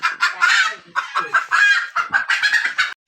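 A desi (native) hen clucks loudly while laying an egg, giving a close, continuous run of harsh, rhythmic squawking bursts that break off abruptly at the end.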